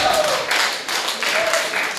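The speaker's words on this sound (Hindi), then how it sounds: "तालियां उठाए तो जोरदार उठाइए।" A crowd at a Hindi poetry recitation breaks into applause, bursts of clapping that swell and ease in waves, with a voice briefly rising over the noise.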